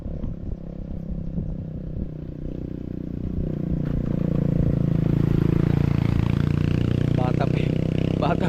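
A motorcycle ridden by a young rider climbs a very steep road in Silang, Cavite; its engine drones steadily and builds louder over several seconds, with some clatter and a voice talking over it.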